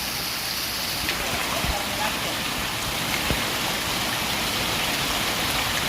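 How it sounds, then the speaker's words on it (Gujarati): Heavy monsoon rain pours down steadily in Rajkot, a dense hiss with occasional sharper drips and taps close by. "હવે રાજકોટમાં અત્યારે દેહ ધનાધન વરસાદ"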